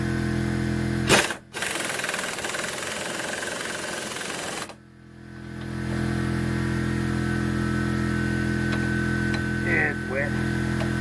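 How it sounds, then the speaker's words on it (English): Air compressor running steadily to build pressure back up during a lift kit install on a 2003 Jeep Grand Cherokee WJ, a constant droning hum that continues throughout after a brief louder burst near the start. "Now I gotta let the compressor build back up."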